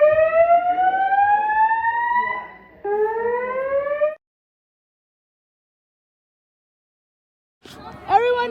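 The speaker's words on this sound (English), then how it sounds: "the fire alarms are going off" A school building's fire alarm blares in loud rising-and-falling tones that cut out for a few seconds, then resume sharply, with voices audible over it.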